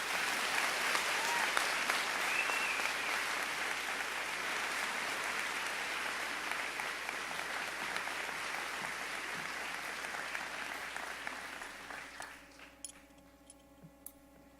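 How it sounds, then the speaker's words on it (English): A graduation commencement crowd applauds the class of 2018 salutatorians with sustained, dense clapping that carries on for over ten seconds before fading into a sustained musical tone near the end. "give a thunderous applause to the class of 2018 salutatorians, Maria Cerrone and Natasha Ferrero."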